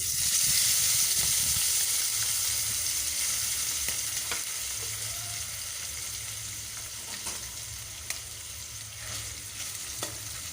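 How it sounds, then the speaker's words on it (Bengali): Amadi fish fries in hot oil, a close, steady crackling sizzle that starts strong and eases slightly over time, with occasional spatters and light utensil clicks. "মাছগুলো ভাজার সময় খেয়াল রাখতে হবে যাতে মাছগুলো ভেঙে না যায়"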